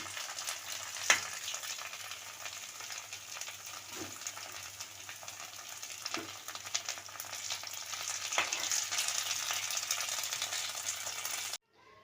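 Steady, close sizzle of food frying in hot oil, with a few sharp pops and crackles, running continuously before stopping abruptly at the end.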